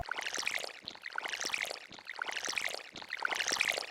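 Water splashing from a watering can onto crops in Stardew Valley, four evenly spaced pouring splashes with bright sparkly chimes, clear and close with no talk.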